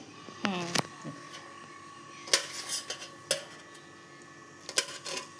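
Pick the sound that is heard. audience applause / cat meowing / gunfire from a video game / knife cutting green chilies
knife cutting green chilies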